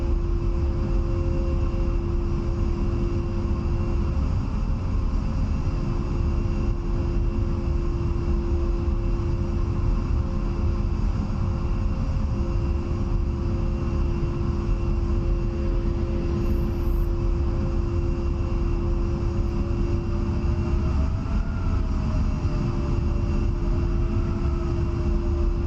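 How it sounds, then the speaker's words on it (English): An A-10A jet taxiing in the DCS flight simulator: a steady, droning engine whine with a constant tonal hum runs throughout. It stays even and moderately loud, with a faint rising tone near the end and no voices. "while we're taxiing back in"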